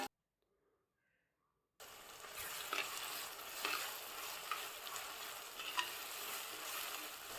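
Tomatoes frying in a pan with masala for a village-style prawn curry, a steady close sizzle with spatula scrapes and light clinks, starting abruptly after nearly two seconds of silence.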